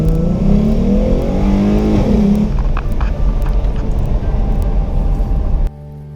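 A car engine revs hard and accelerates, a loud sustained roar that climbs in pitch for about two seconds, then settles into a steady rumble before cutting off abruptly near the end.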